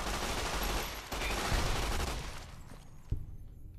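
Gunfire rattles in Fallout: New Vegas, a dense burst of rapid shots filling the first couple of seconds, then tailing off into scattered single cracks as the firing thins out.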